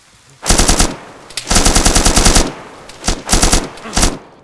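Automatic weapon fire from the video game DayZ rattles in loud, rapid bursts, three long strings of shots separated by brief pauses, close and dominant.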